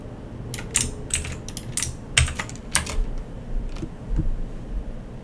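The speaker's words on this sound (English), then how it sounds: "so what if I just type in this?" Someone types on a computer keyboard during a gdb debugging session, a close burst of quick, uneven key clicks followed by a few scattered taps and then quiet.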